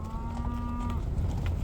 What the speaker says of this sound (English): you see these freaking bulls, just open range cattle.